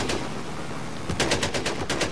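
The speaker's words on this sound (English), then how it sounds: "And then I also have a machine gun too." A tank's mounted machine gun fires in Battlefield 4, with rapid bursts of loud, close gunshots over a steady rumbling engine and battle noise.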